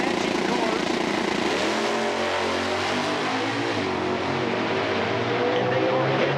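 Nitro drag racing cars at an IHRA Outlaw Nitro event in Milan roar down the strip side by side, a loud sustained engine howl with shifting pitch, while an announcer talks over it.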